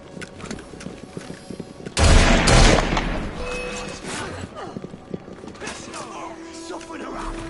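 A loud burst of volley gunfire erupts on command in Assassin's Creed Syndicate, then gives way to horse hooves clip-clopping, scattered shots and clatter, with voices heard.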